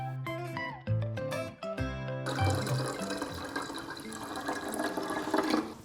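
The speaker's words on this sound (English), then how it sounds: "While the ceiling dries, I'm refilling my water" A countertop water filter dispenses water into a container, a burst of gurgling fill that begins after a brief stretch of music-like tones and then runs as a steady, bright pouring rush to the end.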